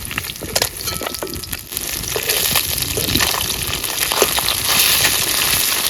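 Fish sizzling in hot oil in a wok at an outdoor riverside cook in the Sundarbans, a dense crackling hiss with stirring scrapes and pops that swell louder toward the end.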